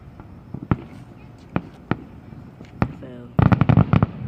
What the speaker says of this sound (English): those are cool fireworks